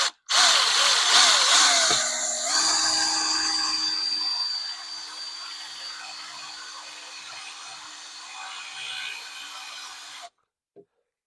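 A power drill whines loudly at high speed drilling out a rivet, steady at first and easing slightly in pitch, then cuts off abruptly as the drill bit breaks, followed by a short click.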